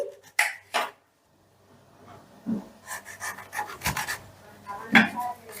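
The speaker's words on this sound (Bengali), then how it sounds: "ওই লেবুটাকেই আমি স্লাইস করে কেটে নিচ্ছি" A knife slices through a gondhoraj lemon on a board, giving several short rasping cuts spaced unevenly, close and moderately loud, with a brief silent pause partway.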